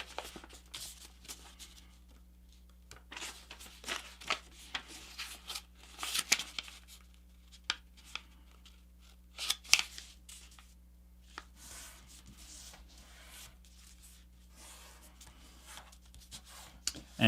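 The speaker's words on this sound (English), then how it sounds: "And we'll flip this over and squash fold this flap." Sheets of paper are creased and squash-folded into a competition paper jet, giving soft, sparse crinkles and sharp rustles in a quiet room.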